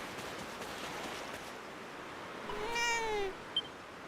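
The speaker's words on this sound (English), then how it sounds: "Oh, you can pet the cat in Dragon Quest VII Reimagined." A cat in the video game Dragon Quest VII Reimagined meows once when petted, a single clear meow rising over a soft, steady surf-like ambience.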